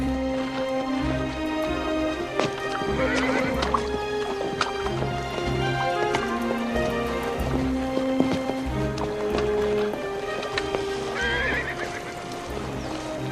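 A horse whinnies twice in long, wavering cries over the steady clip-clop of hooves, with a quieter trickling, liquid sound running underneath throughout.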